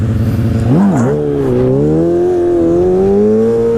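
Motorcycle engine revving high and holding steady RPM during a stunt wheelie, a loud close buzzing drone with a brief dip and rise early on, then a sustained climbing whine.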